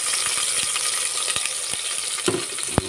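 Onion and ginger sizzle steadily in hot oil for chicken tinola with chayote, a dense constant hiss with scattered light clicks and a couple of sharper pops near the end, close and alone.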